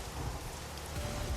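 Rain falls steadily on a neighborhood, a dense even hiss of drops on surfaces with a low rumble beneath and no voices.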